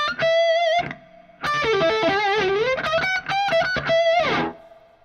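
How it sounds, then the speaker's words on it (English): Guitar notes run through a directional delay and reverb effect, ringing in sustained, pitch-wavering tones with a short gap before a busier swirl of overlapping echoes, loud and alone. "Here's just the directional and the reverb."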